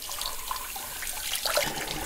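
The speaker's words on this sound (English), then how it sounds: "Give it a rinse." Tap water splashes over a glass being rinsed in a kitchen sink, a close, continuous running-water wash with small splashy surges.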